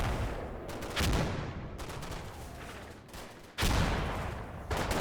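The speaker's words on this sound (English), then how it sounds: "We also start receiving indirect fire on our positions to the back left of B Company." Indirect artillery fire in the war game Combat Mission: dense, continuous rumbling barrages and explosions fill the scene, with several sharp loud onsets as new salvos land, no speech.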